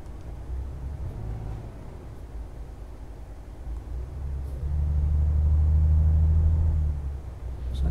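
Volvo VNL 780 truck engine in Euro Truck Simulator 2, a steady low diesel rumble and drone that swells louder mid-way as the engine pulls, with no talk over it.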